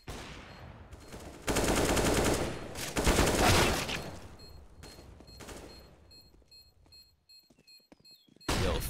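Heavy bursts of gunfire in a Counter-Strike match on the Inferno map, in two long loud stretches and then scattered quieter shots, with beeping tones and a final loud burst at the end.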